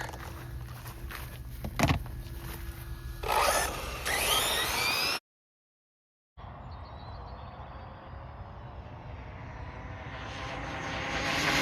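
A Rlaarlo DSK RC car makes a full-throttle speed run: a high electric whine rises, cuts out briefly to silence, then returns as a steady climbing motor drone as the car passes.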